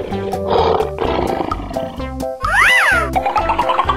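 A lion's roar rings out loud and close over bright, bouncy music, with a rising and falling growl in the middle.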